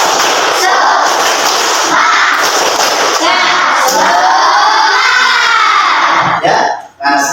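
Children's voices shout and cheer together while rhythmic group clapping sounds underneath, loud and continuous before trailing off briefly at the end.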